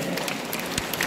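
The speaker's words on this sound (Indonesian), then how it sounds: "Tepuk tangan untuk kita semua." A brief burst of audience clapping during a health seminar talk, a dense steady patter over about a second with no voices.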